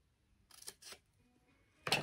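Scissors snip paper while trimming pieces for an ephemera ATC journal, several short crisp cuts in quick succession with a louder closing snip, close and alone.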